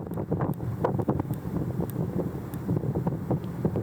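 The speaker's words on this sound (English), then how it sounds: "So with the wind still blowing" Wind gusts across a beach, buffeting the microphone with a steady, loud roar and rumble that never lets up, with no voices.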